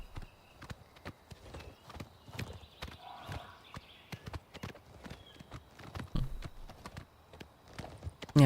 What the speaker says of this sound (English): I can dismount without targeting the horse.